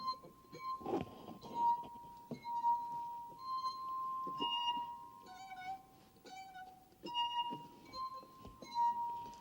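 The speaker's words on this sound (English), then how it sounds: "Another kind of glass, different depth of water, different resonating air chamber, different wall thickness, all together." Drinking glasses filled with different depths of water ring and clink in turn, each strike leaving a clear sustained tone at a different pitch, a sequence of separate resonant notes with quiet gaps between them.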